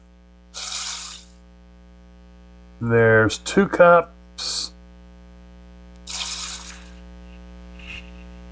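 Water is poured from a measuring cup into a rice cooker for boxed Kraft mac and cheese: several short, close splashing pours separated by a brief spoken remark, over a steady low mains hum.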